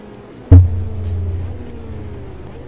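A loud thump is followed by a low engine drone from McLaren GT race cars in the AMS2 racing game, holding steady and then thinning out gradually.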